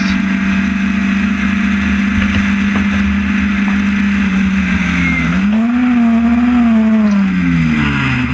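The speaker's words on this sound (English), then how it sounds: "revving very high there, where he changes down again" A Historic Formula Ford racing car at Thruxton circuit, a loud, steady engine drone holding pitch, then dipping and swooping upward as it revs high while changing down, with no one talking.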